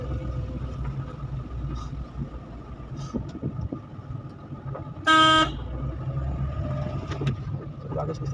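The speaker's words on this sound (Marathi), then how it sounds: "आज गाडी चालवायला वेगळाच वाटते" A car being driven, heard from inside as a steady low engine and road rumble that runs throughout, with one short, loud horn honk cutting through near the middle.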